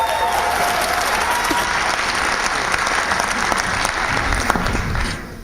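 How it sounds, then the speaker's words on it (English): An audience applauds loudly and continuously for a speaker at a talk about honeybees, a dense sustained clapping that tapers off at the very end. "Give him a round of applause."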